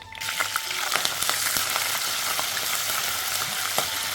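Ginger garlic paste with mustard seeds frying in hot oil for a salmon fish curry, a steady dense sizzle with scattered sharp pops and spatters throughout, close and fairly loud, no talking.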